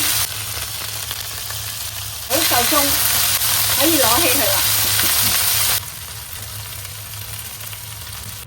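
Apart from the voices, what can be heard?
chicken wings pan-frying in oil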